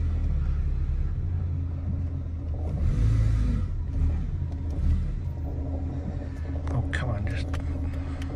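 A 1985 Mazda 929 sedan drives along, its engine a low steady rumble from inside the cabin with occasional light revving, while a person speaks softly over it.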